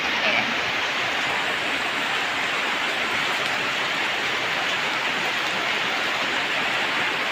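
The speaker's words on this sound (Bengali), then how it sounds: "দেখেন কি সুন্দর ওয়েদার বৃষ্টি হচ্ছে" Steady, dense rain falls without pause, a constant wash of hiss and patter close by, no voices.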